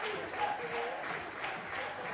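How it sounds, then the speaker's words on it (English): A home crowd at a women's football match during a World 7s tournament claps and cheers in a steady, even roar that fills the stadium, with no single voice standing out. "Home crowd cheering them on."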